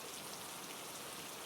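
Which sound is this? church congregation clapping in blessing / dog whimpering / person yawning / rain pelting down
rain pelting down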